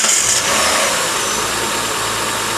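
Car engine running steadily right after a spark plug change, with the EGR pipe loose; a loud, continuous close-up mechanical drone with hiss, no talking.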